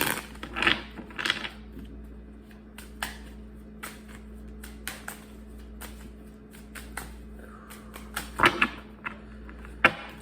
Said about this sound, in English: 3 major shuffles. Let's go.